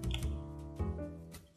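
A keyboard's keys are tapped in quick irregular presses during a racing game on a Samsung DeX setup, faint and mixed under steady game music and engine sound.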